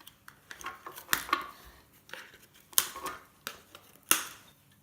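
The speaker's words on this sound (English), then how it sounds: "Cut a couple of wires." Snips cut wires inside a Williams F1 team gaming wheel being scrapped, a few sharp, close clicks at irregular intervals over quiet handling noises.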